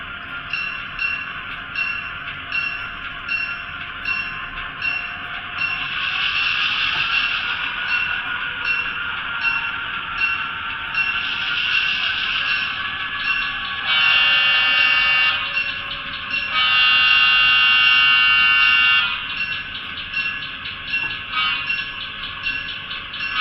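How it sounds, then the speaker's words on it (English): Sound decoder on a model train locomotive hums with a high, whining engine drone that rises and intensifies as the engine spools up and begins moving. The tone surges in stages, steady and fairly loud, with no talk. "when you open the throttle up, the engine starts spooling up and then it starts moving, much like its prototype"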